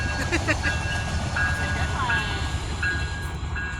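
Heavy rumble of a train passing a park, with metallic squeals and brief high whines over the steady low drone; people can be heard faintly.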